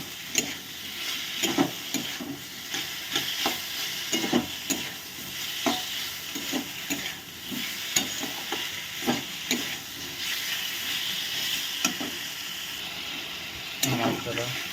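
Fried potatoes being stirred into a thick sizzling spice paste for a rohu fish curry, with repeated scraping spatula strokes and a steady frying hiss throughout, close and fairly loud.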